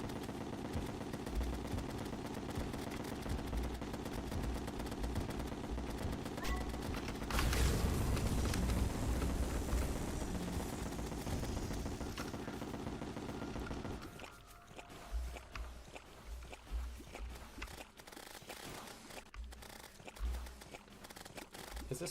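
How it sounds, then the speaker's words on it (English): Hyperius bullets in the Terraria Calamity mod fire as a dense, continuous rattling barrage of rapid shots under game sound, steady and loud, thinning into sparser bursts near the end. "With just that many Hyperius bullets going everywhere."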